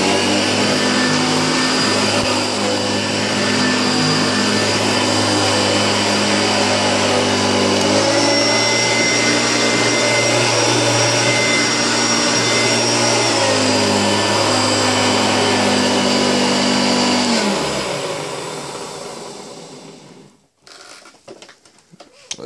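A Hoover Turbopower vacuum cleaner runs loud and close on boost, a steady motor whine and rushing airflow that shifts pitch partway through, then winds down near the end, leaving some rustling handling noise.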